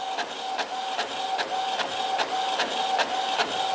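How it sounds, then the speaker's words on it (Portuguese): An HP inkjet printer prints steadily, its head shuttling back and forth in regular rapid passes with a whirring mechanical tone and soft clicks at each stroke, close and continuous with no voices. "A impressora que eu utilizo aqui, pessoal, é uma impressora a jato de tinta"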